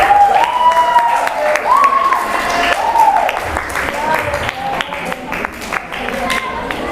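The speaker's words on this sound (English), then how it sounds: "Everyone give a big round of applause to Angel." Audience applause and crowd noise after a speech at a youth speaking summit, clapping mixed with cheering while an amplified voice talks over it, fairly loud and close.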